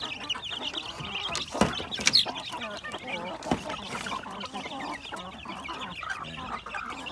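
Chicks and hens cluck and peep continuously close by on a poultry farm, with irregular louder calls standing out over the busy flock chatter.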